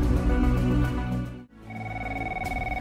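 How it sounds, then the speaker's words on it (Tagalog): A telephone rings in a TV drama scene with a steady, loud, tonal ring that breaks off briefly partway through and then resumes. "Ti telepono."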